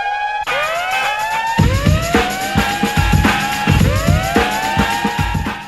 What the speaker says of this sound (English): This siren sample integrated throughout the album